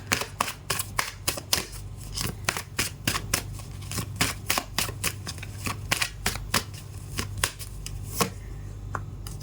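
Tarot cards are shuffled up close, a steady series of quick crisp riffling snaps and slaps repeating throughout, with no talking.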